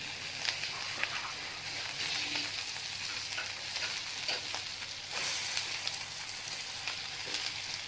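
Mutton shami kababs fry in a pan with a steady, continuous sizzle and crackle of hot oil, close and even in level throughout with faint occasional pops and no talking.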